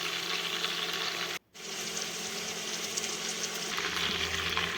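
Malai chicken kabab frying in a pan, a steady broadband sizzle that runs throughout apart from one brief gap near the start, fairly loud and close with no voices.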